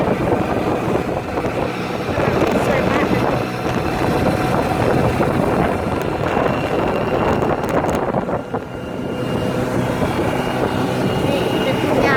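A boat passing on the water with a steady motor drone, roughed up by wind buffeting on the microphone, while someone talks over it.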